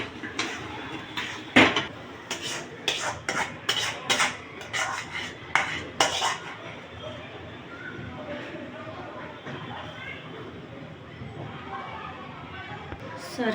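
Cooked mawa is scraped out of a pan into a metal thali, giving a quick run of clinking, scraping metal clatter over the first seconds, then quieter handling under a speaking voice.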